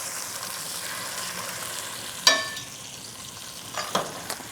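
Salmon searing in a hot pan, a steady close sizzle with a sharp metal clink of a utensil partway through and a couple of softer scrapes near the end.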